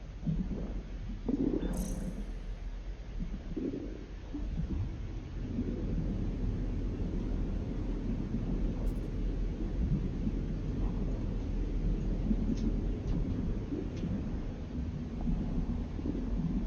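Stormy weather on an alien planet in No Man's Sky: steady roaring wind and low rumbling thunder fill the whole stretch, with a few faint electronic blips on top.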